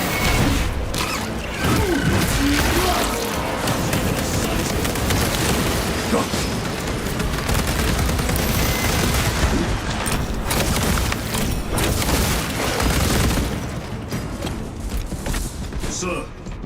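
Turrets in Space Marine 2 pour out loud, sustained fire, with a steady barrage of shots and booming blasts filling the scene as voices speak over the chaos.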